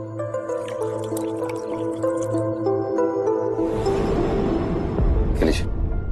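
Water pours into a container about halfway through, a close splashing gurgle that rises over soft background music playing on its own at first.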